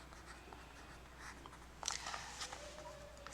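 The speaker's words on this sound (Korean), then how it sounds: "그러면 두 번째 빈칸에도 싹이 튼다라고 써볼게요" Pen writing an answer into a blank on an elementary science worksheet, soft scratchy strokes in short bursts, close and quiet with no talk.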